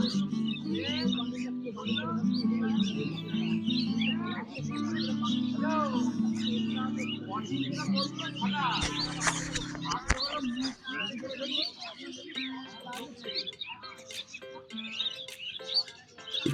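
Pigeons and other birds at a rural animal and bird market chirp and coo over a busy crowd, with people talking throughout and a dense layer of calls close by.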